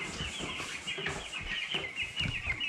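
Ten-day-old Cobb 500 broiler chicks peep in a dense, continuous chorus of many overlapping high cheeps, close by and steady, with no talking.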